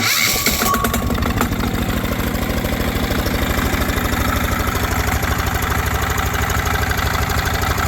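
A diesel-powered motorcycle engine catches after a brief cranking burst, then settles into a loud, steady, rapid thumping idle close by, with no speech.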